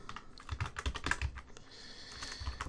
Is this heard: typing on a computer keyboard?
yes